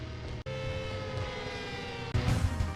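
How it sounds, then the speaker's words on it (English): Air raid siren in warfare-themed video game music, a sustained wailing tone layered over a droning music bed, briefly cutting out before returning louder. "It does sound like the siren that sounds when, you know, there's a bomb run, like there are bombers on their way or something."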